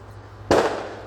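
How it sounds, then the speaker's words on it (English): A single sharp firework burst goes off outdoors, a sudden loud crack at mid-clip followed by a fading crackle and rumble over a quiet background. "We have freaking fireworks."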